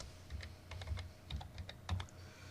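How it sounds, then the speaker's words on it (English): Keystrokes tapped out in an uneven series on a computer keyboard while a word is entered into a LibreOffice Writer table cell, close and fairly soft with no talking. "I'll type the word Session"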